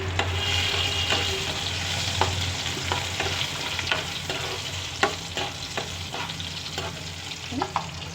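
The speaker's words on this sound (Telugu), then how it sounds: "ఎండుమిర్చి జీలకర్ర వేసేద్దామండి వేసుకుని కదా వేగుతున్నాయి అవి" Dried red chillies and cumin fry in hot oil in a pan, giving a steady, close crackling sizzle with frequent scraping strokes of a spatula throughout.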